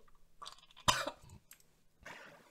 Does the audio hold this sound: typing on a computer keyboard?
no